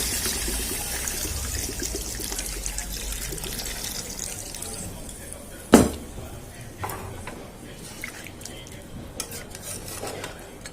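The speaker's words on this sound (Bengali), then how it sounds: "তেল ছেড়ে দিয়েছে, এবারে জল দিয়ে দেবো।" Water poured into meat curry simmering in a pan at home: a steady sizzling, bubbling wash of liquid with stirring scrapes and one sharp utensil clank midway, close and fairly loud, with faint voices in the background.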